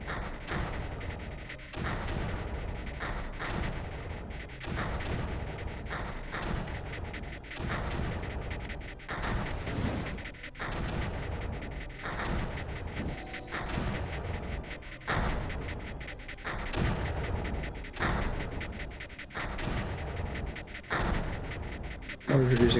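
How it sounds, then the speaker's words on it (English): Mortar units in the strategy game Creeper World fire repeatedly, producing a regular series of deep thumping booms spaced a second or two apart, with someone talking intermittently over them. "The mortar's doing a lot of the work"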